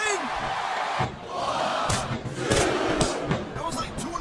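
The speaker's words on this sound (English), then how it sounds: "I love hearing the crowd come alive, even when I don't exactly agree with what they're saying." Arena crowd in the wrestling video game WWE SmackDown vs Raw 2007 roars and cheers continuously during a tag team match, with surging bursts of noise and commentators talking over it.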